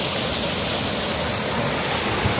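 Spring water gushing steadily out of the ground beside a motorbike trail, a dense continuous close rushing wash with no talk over it.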